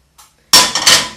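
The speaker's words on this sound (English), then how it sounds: "you take your frying pan" A frying pan picked up and set down in a kitchen, a faint tap followed by a sharp metallic clank and a second ringing knock, close and loud.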